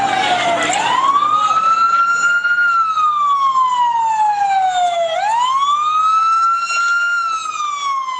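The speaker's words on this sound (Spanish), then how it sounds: "empezaron a llegar las ambulancias" Ambulance sirens arriving at the scene of a guerrilla attack in Orito, Putumayo, Colombia: a loud, close wailing siren that rises and falls in long sweeps, continuous and alone.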